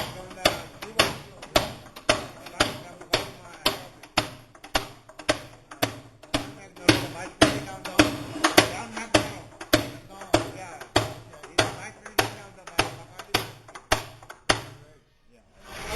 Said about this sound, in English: So you must be happy to see the hammering of this.